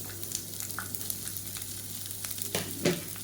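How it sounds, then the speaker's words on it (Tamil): Sliced large onions sauté with curry leaves in a pan for manathakkali keerai kuzhambu, giving a steady close sizzle broken by a few sharp clicks and scrapes of stirring, with no voices. "சேர்த்துட்டு நல்லா வதக்கிக்கலாம்"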